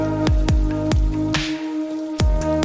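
Several distinct raindrops land in an irregular rhythm, each a sharp plip with a short ringing tail, close by, with a brief quieter gap midway.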